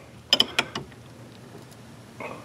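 Wrench tightening a hydroboost line fitting on a 2001 Excursion, giving four quick, close metallic clicks and creaks within half a second, then near quiet.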